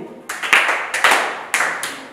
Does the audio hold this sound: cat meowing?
no